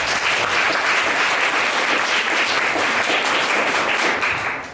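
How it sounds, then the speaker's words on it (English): A poetry reception crowd at a museum gives a round of applause, thick continuous clapping at a steady loud level that fades slightly at the very end. "Can we give them a round of applause?"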